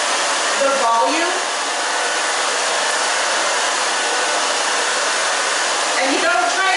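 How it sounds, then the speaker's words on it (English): Hair dryer blowing steadily and loudly while drying a short stacked bob with root lifter product, a constant close whoosh with slight shifts in tone as the airflow moves through the hair. "Now with the Root Lifter, I like to dry it the opposite way you need the volume."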